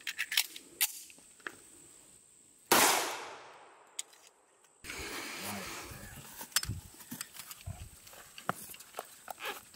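A single sharp, loud shot from a Taurus 1911 firing a 230-grain .45 ACP round into body armor cracks out, then rings and fades over about two seconds amid quiet clicks and handling noises.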